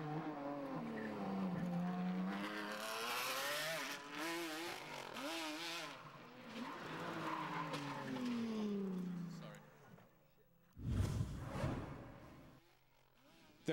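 A bright yellow Ferrari Enzo race car with 860 horsepower loses control after a bump in the pavement during the Targa road event, with a loud engine roar and a sharp tire screech near the end under a narrator's voice.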